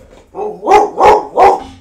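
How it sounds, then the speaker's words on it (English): Several dogs barking in a short burst, three loud close barks in quick succession after a softer opening yelp, with no talk over them. "the dogs are telling you to get off"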